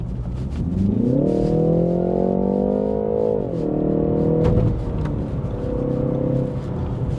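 A BMW 330i G20's two-litre engine revs up with a rising, strained drone, holds high, then drops back to a steadier idle-like hum, loud and close with no talking.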